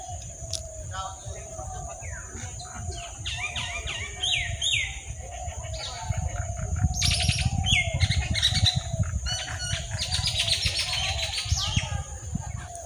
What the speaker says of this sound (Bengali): আবার কী উঠছে ওগুলো পাখি